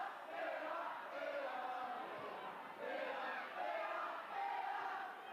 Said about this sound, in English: the away crowd letting their voices be heard